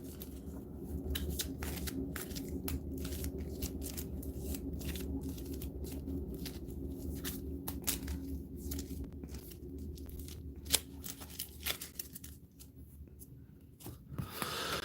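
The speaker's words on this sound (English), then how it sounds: "I'll get to shuffle all the rest of these." A deck of Marvel Champions game cards being shuffled by hand at close range, a long run of quick riffling and snapping bursts with short pauses, quiet and without talk.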